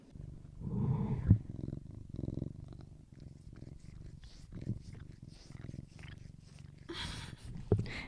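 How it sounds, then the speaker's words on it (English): A cat purrs steadily and close up, a low rhythmic rumble pulsing in slow breaths, with a few soft clicks and rustles near the end. "can you guys hear my cat? He's purring now."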